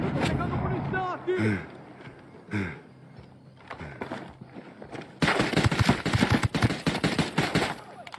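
Rapid machine gun bursts from a Brazilian sniper shooter video game, dense and loud in the latter half, with a player talking over the earlier part.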